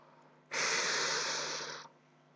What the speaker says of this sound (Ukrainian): Для цього ми робимо глибокий вдих носом і плавно видихаємо ротом